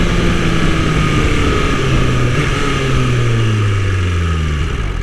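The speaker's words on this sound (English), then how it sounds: "I'm addicted to that downshifting." A BMW S1000 motorcycle engine roars loud and close, revving with falling pitch sweeps as it downshifts through the gears, steady and continuous with no talking.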